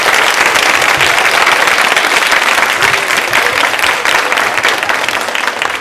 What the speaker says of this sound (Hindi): जोरदार तालियां बजाइए, जोरदार